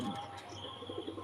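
Pigeons in a caged pigeon colony give soft, low, throaty coos, faint and brief, with a little chirping in the background.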